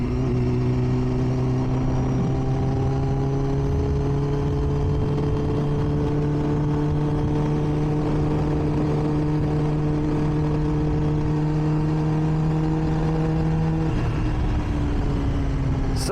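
A 2005 Triumph Daytona motorcycle engine runs loud and close with a steady, humming drone that climbs slightly in pitch, then drops sharply near the end, with no voices.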